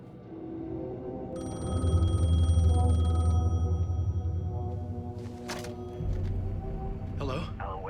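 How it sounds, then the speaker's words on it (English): A payphone rings in the video game Alan Wake 2, a bright electronic trill of about two seconds. Other game noises and voices follow. "The payphone was ringing."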